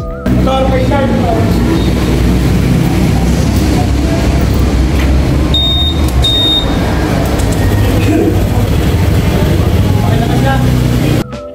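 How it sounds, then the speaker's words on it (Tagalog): A motorcycle engine is started and left running during a registration renewal inspection, giving a loud, steady, continuous roar that holds for nearly the whole stretch before cutting off. "Pagtapos ng selfie, pina-start niya na yung motor ko."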